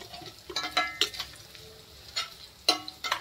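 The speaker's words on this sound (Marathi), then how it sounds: "अद्रक टाकूया, अद्रक कुटून घेतलंय। चांगलं भाजून घेऊया।" Crushed ginger frying and being stirred in a pan for a Maharashtrian dry potato bhaji, with soft sizzling under several sharp scraping stirs close by.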